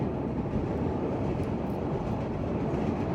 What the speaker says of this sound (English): just grabbed the sights and sounds of Chicago train and subway,